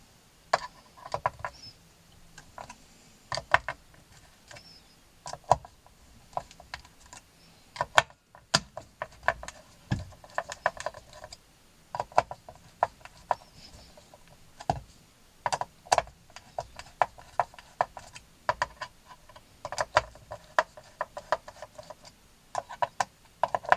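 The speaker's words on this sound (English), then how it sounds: "Just get the neck off, so just got 4 crosshead screws, so just take that off." Crosshead screws being removed from the neck of a Harley Benton Telecaster-style guitar with a screwdriver, a long run of small, close, irregular clicks and ratcheting ticks.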